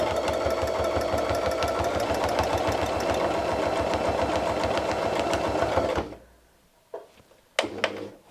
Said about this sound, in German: nähen unseren ersten Streifen rauf und wieder runter mit einem Geradstich